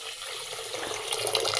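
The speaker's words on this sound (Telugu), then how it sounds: "ఎన్నైతే పోసుకున్నాను నీళ్ళు" Water pours in a short, continuous splashing stream, getting slightly louder toward the end, close by with no voices.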